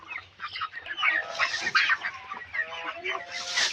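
Broiler chickens in a poultry shed cluck and chatter in a dense, busy chorus, close and continuous with overlapping calls.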